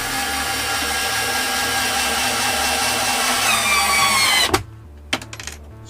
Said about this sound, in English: I can concentrate on the rest of the screws holding this skeleton framework at the back.